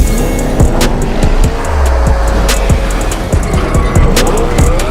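A Porsche Panamera Turbo S drives steadily with a loud, continuous engine and road roar, joined by sharp intermittent ticks and knocks and a short low rumble in the middle.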